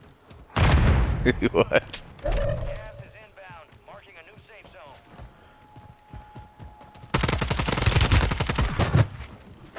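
Gunfire in a multiplayer shooter video game: loud bursts of rapid shots, then a quieter stretch, then another long volley, with players talking between them.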